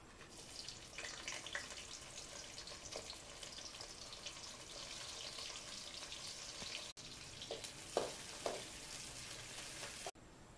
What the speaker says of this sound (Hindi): अब इसमें प्याज डालूंगी, उसे थोड़ा सा कलर चेंज आने तक पकाऊंगी